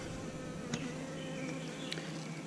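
A steady drone of many honey bees buzzing close by at a hive, a continuous humming swarm with no voices.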